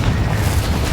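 A Bombarda spell from Hogwarts Legacy goes off as a loud, dense, rumbling boom with a deep low end that fills the whole short moment.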